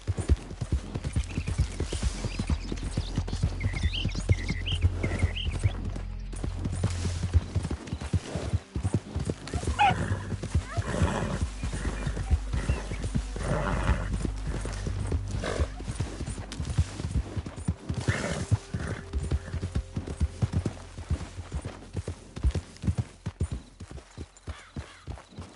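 A horse trotting and galloping in Red Dead Redemption 2, with steady rhythmic hoofbeats throughout, a few whinnies early on, and a low ambient rumble underneath, near and continuous.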